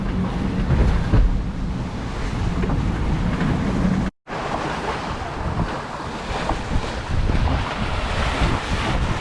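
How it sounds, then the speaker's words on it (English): Ocean waves surge around a sailboat at sea on a rough, windy day, with steady loud wash and wind buffeting the microphone throughout, broken by a brief dropout midway. "Some of these waves have been like 8 feet tall."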